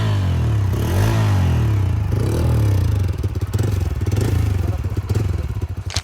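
Bajaj Freedom 125 CNG motorcycle engine running close by, a loud low thrum that rises with a rev, then settles into a pulsing, slightly uneven idle rhythm.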